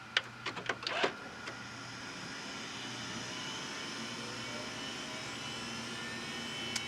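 Doorbell server computer powering on, a cluster of clicks and beeps at startup followed by cooling fans whirring up into a steady, even rushing drone that holds to the end.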